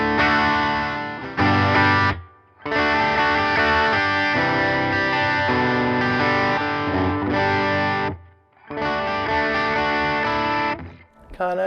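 An electric guitar on its bridge humbucker plays through a Fender Princeton Reverb ToneMaster amp, giving loud sustained chords and riffs in phrases with short pauses between them.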